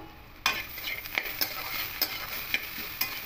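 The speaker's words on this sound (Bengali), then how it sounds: "এইভাবে ঢাকা খোলা অবস্থাতে একটু ভালো করে নাড়াচাড়া করে নেব" Chopped banana stem (thor) frying in an open, uncovered pan, a steady close sizzle broken by several sharp scraping stirs at fairly even intervals, with no voices.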